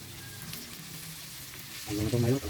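Pork meat added to a hot pan for adobo, with steady frying sizzle throughout that swells louder toward the end, and a voice murmuring faintly underneath.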